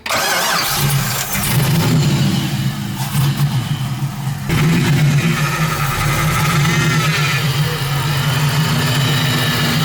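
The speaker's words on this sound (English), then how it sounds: "gonna start the car and see how much clearance we have" A Nissan 240SX with an LS1 engine and a fuel delivery problem cranks and catches, then settles into a loud, rough idle that runs steadily to the end.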